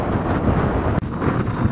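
Strong wind buffets the microphone outdoors by the water at Svisloch agrotown, a steady loud roaring rumble with a brief dropout midway, no talk.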